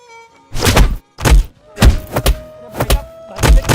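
A man being beaten, with a rapid series of loud, heavy thumping blows landing close by in irregular bursts.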